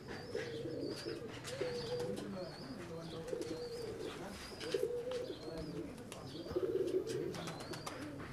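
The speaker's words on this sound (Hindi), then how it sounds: "खूबसूरत कबूतर है" Several pigeons kept by a champion fancier coo in repeated soft, throaty bursts, fairly close, with light chirps and faint background noise between calls.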